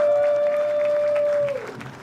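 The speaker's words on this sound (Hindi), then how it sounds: "जोरदार तालियां यार शिवम वर्मा के लिए मैन" Applause from a comedy show audience: a dense, fairly loud wash of clapping that runs steadily and starts to thin out near the end, with a thin sustained tone running through it.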